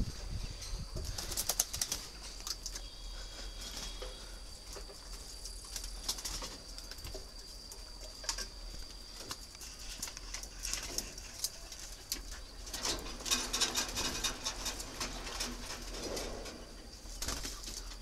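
Breeding spotted doves in an aviary coo softly and repeatedly, with bursts of wing flapping and a few chirps scattered among them at close to moderate distance.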